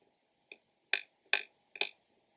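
A male Poecilotheria rufilata tarantula taps near a female hidden behind bark, giving one soft tap and then three sharper, close, clicking bursts at a steady rhythm against a quiet background.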